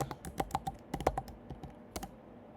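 Quick, irregular keystrokes clatter on a computer keyboard as an ipconfig command is typed into a terminal. The taps are close and crisp, with a short pause midway and no talking.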